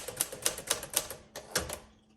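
A 1951 Smith Corona Sterling manual typewriter types a sentence, its keys striking crisply in a quick irregular rhythm of sharp clacks, then a short pause and a few more strokes.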